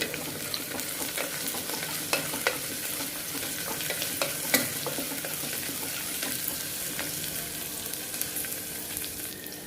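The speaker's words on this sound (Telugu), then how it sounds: "ఉల్లిపాయలు వేగేంత వరకు వేయించుకోవాలి" Sliced onions, green chillies and curry leaves frying in oil for a lentil pulagam, a continuous close sizzle with soft stirring clicks and occasional louder spatters, no voices.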